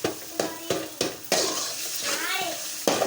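Egg rice being stirred in a pan, with a spoon scraping and clinking against the metal in a series of short strokes, close and fairly loud, followed by a longer stretch of sizzling stir and a final scrape.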